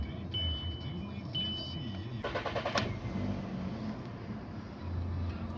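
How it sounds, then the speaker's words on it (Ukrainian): A 2005 Volkswagen Golf with a 1.4 MPI petrol engine and 181,000 km on it: a high chime, then a short rattling starter crank, and the engine catches into a steady, fairly quiet idle. "Так, заведу автомобіль."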